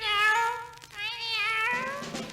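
A cat meows twice in drawn-out, wavering calls, close and loud, the second call rising and then trailing off.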